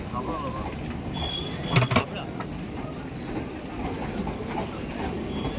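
A Habra local passenger train rolls past in a busy street-side setting, with continuous rumbling wheels and a couple of sharp metallic squeals or clanks midway, over a constant background of crowd noise.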